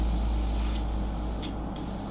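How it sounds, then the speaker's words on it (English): An airbrush with its needle removed blows Windex cleaner through the nozzle, a steady, loud hissing spray of air that holds constant throughout, with no voices. "spray some Windex in there, shoot that through"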